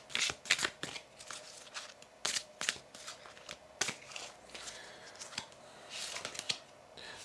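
Tarot cards shuffled by hand, a string of crisp riffling bursts and soft slaps repeating at close range over several seconds, with no talking.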